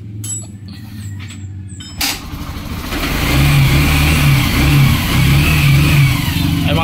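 A Yamaha XTZ 125 motorcycle, running with its old voltage regulator, cranks and fires after a short start, then revs unevenly in loud, wavering bursts close by.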